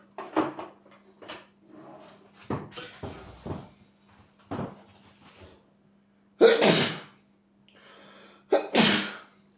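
A person sneezes sharply twice, a few seconds apart, amid quiet indoor handling noises such as a wrapper rustling and light clinks.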